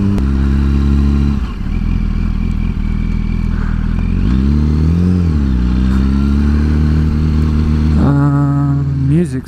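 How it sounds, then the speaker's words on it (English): A motorcycle passing on a busy town street: a loud, close engine drone that rises and falls as it goes by, with rumbling traffic and clatter around it. "There's another bike."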